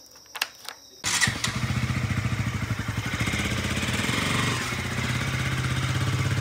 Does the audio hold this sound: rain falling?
no